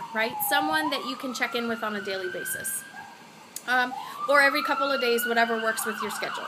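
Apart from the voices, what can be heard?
emergency vehicle sirens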